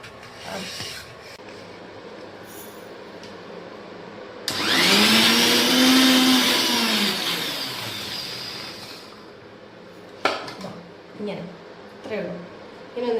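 A mixer grinder jar blends chickpea curry ingredients in a home kitchen. It starts with a loud whirring roar, its pitch rising and falling, runs for about five seconds and winds down, with talking before and after.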